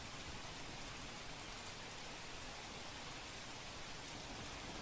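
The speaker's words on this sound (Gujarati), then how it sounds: "आज वહેલી સવારથી સતત વરસાદ વરસી રહ્યો છે" Heavy monsoon rain pouring down steadily in Vapi, Valsad, a dense continuous roar of rainfall with no pauses and no voices.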